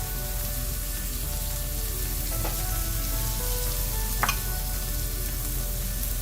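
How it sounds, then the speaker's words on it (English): Microwaved potatoes with turmeric and salt in oil in a pan, a steady sizzle with a low hum beneath and a couple of brief spatula scrapes, close with no voices. "Give it a good stir."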